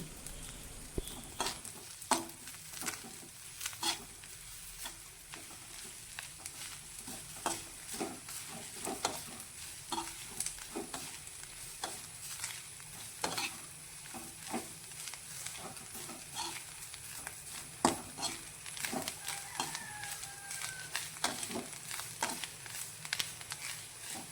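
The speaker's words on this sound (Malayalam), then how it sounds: "ഞാൻ കുറച്ച് നാളികേരം വറുത്തെടുക്കുകയാണ് ചെയ്യുന്നത്" Coconut with a little turmeric powder is roasting in a pan, with soft continuous sizzling and repeated scraping strokes of a spoon stirring, heard close up and quiet.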